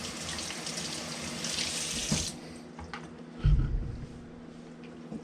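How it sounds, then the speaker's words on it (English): Tap water runs into a kitchen sink while a whole duck is rinsed, a steady splashing stream that stops abruptly, followed by a brief wet slosh and handling noises. "Rinse the inside of the duck."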